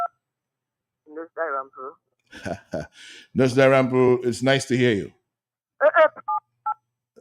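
Telephone keypad tones pressed by a caller during a radio call-in, a few short beeps at first, then a quick cluster of beeps near the end, with someone speaking between them.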